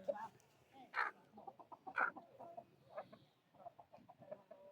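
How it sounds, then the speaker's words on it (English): A young chicken at Mountfitchet Castle clucks and pecks as it eats, producing a series of short, mid-pitched calls at close range with a person talking intermittently in the background. "Chicken."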